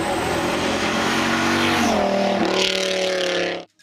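A Dodge Viper's V10 engine revs loud and close in one sustained, rising howl that climbs in pitch and then cuts off abruptly.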